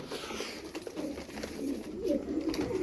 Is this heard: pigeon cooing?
yes